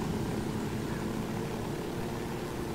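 A helicopter flies in the video game Ghost Recon Wildlands, its rotor and engine making a steady, dense whir that holds at an even level with no talk over it.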